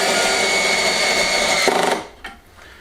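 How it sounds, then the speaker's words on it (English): A power drill drives screws into equipment during an off-grid solar system install, whirring steadily up close for about two seconds, then stopping, with one short extra pulse afterward. "I'm going to put a couple of extra screws in this."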